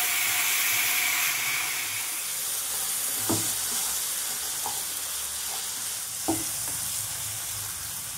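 Beet chicken with sour yogurt sizzles steadily in a frying pan, a constant bright hiss broken by a few soft scraping thuds of a spoon stirring, with no talking.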